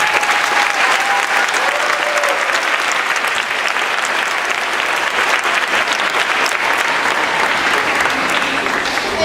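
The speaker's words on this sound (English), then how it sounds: "a big round of applause" Loud, sustained applause from a concert audience welcoming a school string orchestra at a spring music concert, dense clapping holding steady for several seconds.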